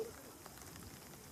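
Monsoon rain in Mumbai falls steadily during a cricket match, a soft continuous hiss with faint pattering, low in level and with no voices.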